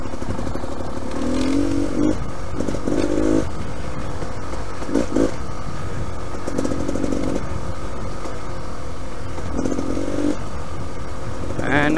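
Beta Xtrainer dirt motorcycle ridden along a slippery, muddy trail, its engine droning steadily with repeated revving bursts and throttle blips, loud and close throughout.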